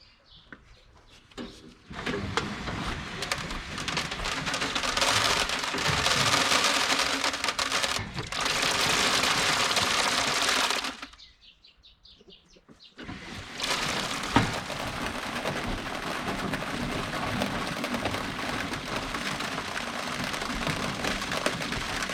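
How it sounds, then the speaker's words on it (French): A Monocem seeder's wheel turned by hand for 50 revolutions while fertilizer pours into collection buckets, giving a steady dense rattling hiss that pauses briefly midway before resuming. "on va réaliser 50 tours de roue du semoir Monocem"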